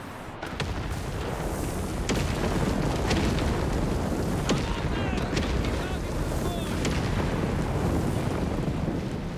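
A walking Stuka rocket artillery barrage in Company of Heroes 3 rumbles as a dense, steady roar with scattered sharp launches and impacts, loud throughout over a windy battlefield.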